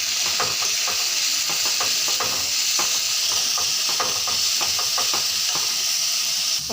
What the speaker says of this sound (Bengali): জিরাটা গরম হয়ে গেছে, এখন সবজিগুলো দিয়ে দিচ্ছি।